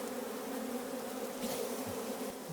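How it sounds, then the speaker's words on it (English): A dense, steady buzz from many honeybees fills the air as frames of bees are shaken into a horizontal hive, heard close and continuous with a low droning hum and no speech. "I'll take a couple frames of bees and just shake them in there."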